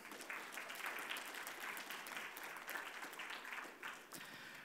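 Applause from an audience at a VIP thank-you ceremony, a continuous patter of many hands clapping at moderate level, easing slightly toward the end.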